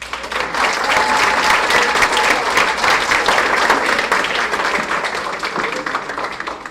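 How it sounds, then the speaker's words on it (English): Audience at a show clapping a warm round of applause to welcome Tammy to the stage, a loud, dense, continuous patter of many hands that holds steady and eases slightly toward the end. "please let's welcome Tammy with a round of applause"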